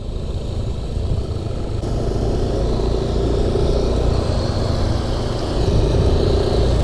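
Yamaha Aerox 155 scooter riding along a road, its engine giving a steady, fairly loud drone with rushing wind noise that swells slightly toward the end, no voices.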